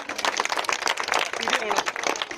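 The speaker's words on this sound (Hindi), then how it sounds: "एक बार तालियां बजाएंगे उनके लिए भी सभी।" An audience at an Independence Day gathering claps to honour a guest, a dense burst of applause mixed with talk over it.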